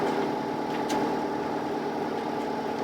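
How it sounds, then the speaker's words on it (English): A sailboat's engine runs at low revs on a rolling sea to charge the batteries despite a faulty alternator, giving a steady, close, droning hum with no talk. "The alternator's playing up, so we can only run the engine at low revs to charge the batteries"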